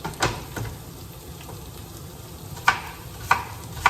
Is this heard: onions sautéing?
yes